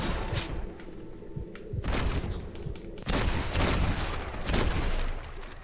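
Gunfire in the Red Dead Redemption video game: loud bursts of shots crackle in clustered volleys, with a sharp heavy blast around the middle and continued rapid firing after it.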